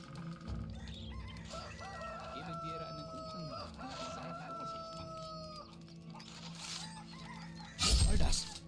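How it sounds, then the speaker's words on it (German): A chicken in the video game Gothic 3 clucks and squawks in a run of short pitched calls, fairly close, with game ambience, a voice speaking over it and a loud crash near the end. "Wo geht denn dieses Huhn jetzt hin?"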